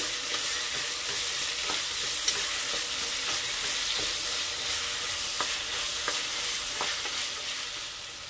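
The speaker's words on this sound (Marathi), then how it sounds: "टोमॅटो छान असे सॉफ्ट होईपर्यंत परतून घ्यायचे." Finely chopped tomatoes and onion sautéing in a pan for a field-bean (val) rice pulao, with a steady close sizzle and regular scrapes and stirring taps of a spoon throughout, no talking.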